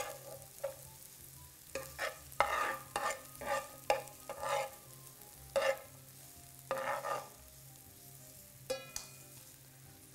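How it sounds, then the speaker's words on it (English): Onions browning in a pan, a faint low sizzle under a series of distinct scraping stirring strokes, spaced irregularly and fairly close. "kind of brown our onions here for about maybe 5-8 minutes or so."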